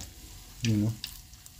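Fresh cooking oil sizzles steadily in a freshly cleaned pan, a soft hiss with one brief, louder tonal surge partway through.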